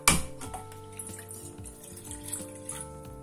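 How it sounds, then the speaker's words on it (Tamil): Water poured from a tumbler into a pot on a stove while making herbal tea in a home kitchen, a soft splash at the start followed by quiet trickling and dripping, close and faint, with no talk. "ஒரு டம்ளர் ஃபுல்லா தண்ணி ஊத்திக்கலாம்."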